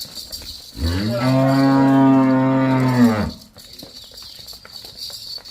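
A Jersey cow on a Punjab dairy farm gives one long, loud, close moo lasting a few seconds, with farm background noise and people talking before and after it.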